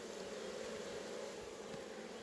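Bees buzzing around a hive as it is being closed, a faint, continuous drone with a steady hum and no speech.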